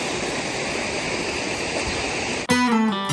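A small snowmelt waterfall in a Glencoe, Scotland forest pours with a loud, constant close-up roar, cut off near the end as a voice begins speaking over fainter water.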